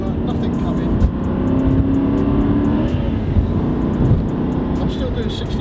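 Engine of a supercar lifting off the throttle through a corner, a steady loud drone from inside the car at about 60 mph, with a voice talking over it.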